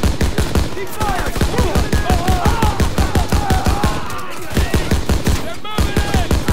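Rapid, steady machine gun fire in the WWII shooter Call of Duty: WWII, a long run of close, loud bursts with brief gaps, mixed with shouted battle commands over the din.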